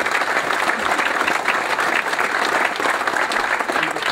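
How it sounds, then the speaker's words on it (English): A large, record-sized crowd at a World War II Battle of the Bulge 75th anniversary gathering gives loud, sustained applause, a dense and even wall of clapping with no speech over it. "And let's hear it for Ken Griegas."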